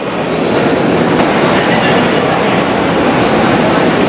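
Shalimar Express standing at a railway station platform, a loud steady broadband rumble of train and station noise filling the whole stretch without pause, no voices.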